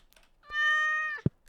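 A house cat lets out a single clear, drawn-out meow up close, followed by a short soft thump.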